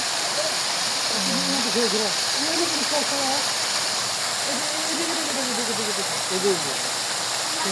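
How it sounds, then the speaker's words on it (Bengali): A steady rush of falling water runs beside a village fish pond, an even, unbroken wash heard at moderate distance while people talk faintly over it. "পানি পড়তেছে"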